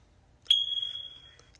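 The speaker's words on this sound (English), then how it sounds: "That weak smoke alarm battery you meant to change weeks ago finally gave up." A single high electronic chirp from a smoke alarm with a weak battery, sharp at the onset and fading over about a second in a quiet house at night.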